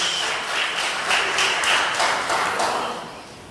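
A church congregation breaks into applause during a Sunday sermon, a dense, even wash of clapping that holds for a few seconds and then begins to fade.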